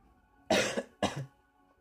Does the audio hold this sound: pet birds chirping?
no